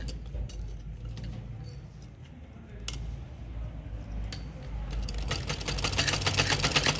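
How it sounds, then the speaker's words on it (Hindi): A sewing machine stitches a pocket onto pajamas, a faint whir that grows louder and steadier toward the end, with a few sharp clicks along the way. "अब हम इसको यहाँ पे ऐसे रखेंगे और यहाँ पे एक सिलाई लगाएंगे"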